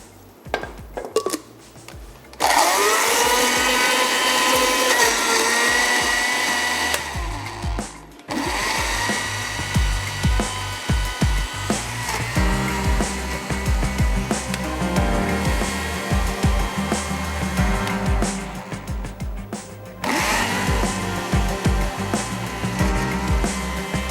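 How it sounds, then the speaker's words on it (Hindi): Tomatoes whirring in a mixer grinder, a loud steady motor roar running in several long bursts broken by short silent pauses, with clattering and rattling inside the jar. "मैं टमाटरों को भी पीस लेती हूँ"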